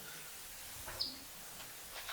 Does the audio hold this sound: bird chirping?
yes